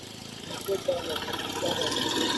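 A motorbike engine idles steadily at moderate loudness on a seaside trip to Kuakata, with voices talking over the running engine.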